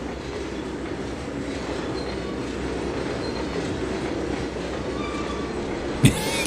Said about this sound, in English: Hear that engine coming up now.